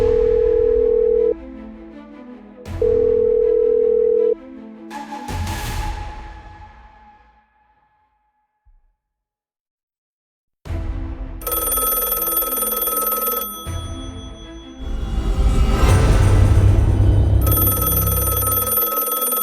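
An unanswered hotel reception telephone rings in repeated bursts, loud and close, the early rings clean and the later ones layered under rising eerie music and rumbling effects.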